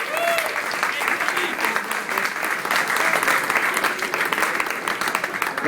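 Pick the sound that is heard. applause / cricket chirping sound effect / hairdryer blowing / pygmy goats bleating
applause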